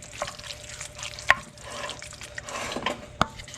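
Drained ground beef being stirred into sauce for lasagna stuffed manicotti, with soft scraping and wet stirring in a pot, a couple of sharper clinks of the utensil against the pan, and no talking.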